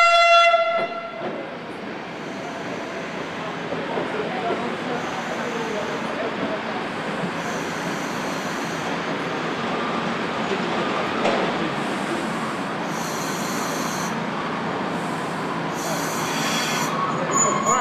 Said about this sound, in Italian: consegna EAV di due treni completamente ristrutturati per la linea